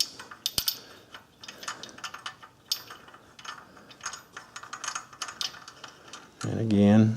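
A hand ratchet clicks in quick, close bursts while backing out a front engine bolt on a Suzuki Forenza during cylinder head removal; faint low talk sits underneath, and a louder humming burst ends the sequence.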